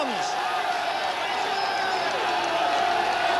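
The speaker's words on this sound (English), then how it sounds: "Listen to the crowd roar him home." A big crowd roars steadily at a greyhound race as the record-chasing dog Ballyregan Bob rounds the bend toward home. The cheering holds loud and unbroken throughout, with a commentator talking excitedly over it.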